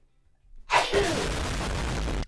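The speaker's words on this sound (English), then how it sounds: "I feel a sneeze coming on" A single sharp, loud human sneeze bursts out, then trails into a sustained breathy hiss before cutting off.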